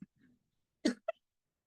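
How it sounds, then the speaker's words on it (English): A single sharp cough, with a smaller second catch just after, from a person who has just inhaled sharp distilled white vinegar fumes while canning vegetables; close and brief in an otherwise quiet room. "I'm going to cough because I just inhaled the vinegar"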